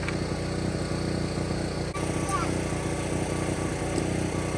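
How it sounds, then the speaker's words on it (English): A portable generator engine drones steadily nearby, a constant low mechanical hum with faint clicks on top, heard outdoors during a scrap building project. "Time to fire up the generator and get out the old electrificator."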